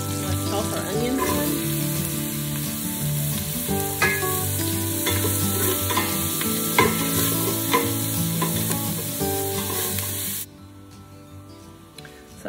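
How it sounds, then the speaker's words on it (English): Bacon and onions sizzle and crackle steadily in a pot, with stirring and scraping close up. The frying runs loud and continuous for about ten seconds, then drops sharply quieter near the end. "So here we've started rendering out our bacon. Let's toss our onions in."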